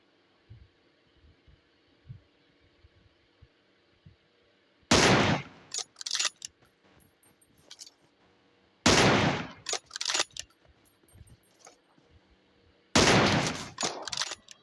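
Gunfire in the video game BGMI during a sniper fight with an M24: three loud bursts of shots several seconds apart, each followed by a few short cracks, over quiet game ambience.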